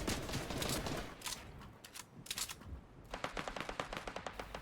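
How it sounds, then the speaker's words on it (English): Several bursts of rapid SMG fire in Fortnite, close and loud, with quick crackling shots in clusters and a denser string of shots near the end. "I also shot some SMG shots that got me absolutely nowhere."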